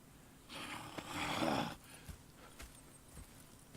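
Horses in the Red Dead Redemption 2 video game give a breathy snort and whuffle, followed by a few scattered hoof clops and shuffles against a quiet background.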